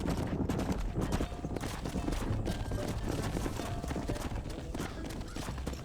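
Horse hooves galloping in a video game, a steady rapid clip-clop drumming under a dense wash of ambient game sound, fairly quiet and continuous with no break.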